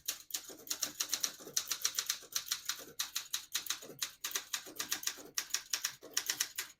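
Keys strike in a brisk, steady rhythm on a 1968 Olympia SM9 portable typewriter set to print in red from the lower half of the ribbon, each sharp clack close and distinct with no talking.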